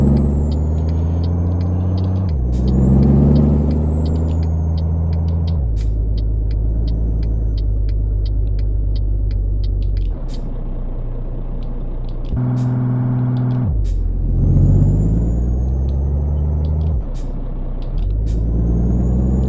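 Loud, deep Peterbilt 379 truck engine roar in a driving video game, rising and falling through repeated high revs and gear shifts, with brief hissing bursts, continuous and up close, no voices.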